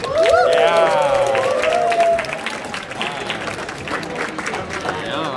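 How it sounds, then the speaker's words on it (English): Audience applause and cheering fill a drift club's awards banquet at a brewery, steady and loud for about two seconds before tapering into scattered clapping, with a speaker's voice and crowd chatter over it. "let's give a round of applause to the Backyard Brewery for letting us have our banquet here"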